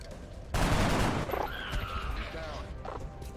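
Gunfire from the video game XCOM: Enemy Within bursts in loudly as a dense volley and rings out for about a second, followed by fainter game effects and a talking voice.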